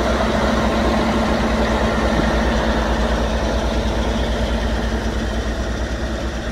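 A Bashkir-made loader's engine runs steadily at a low, heavy idle throughout, a loud continuous rumble with no talk over it, heard at a tractor repair yard during a Kirovets K-700 overhaul.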